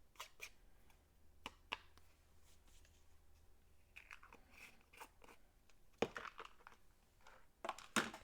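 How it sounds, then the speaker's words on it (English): Scissors cutting card stock around embossed words, quiet crisp snips and paper crunches at an uneven pace, close up, with faint handling noise between the cuts and no talking. "I'm just going to cut around them."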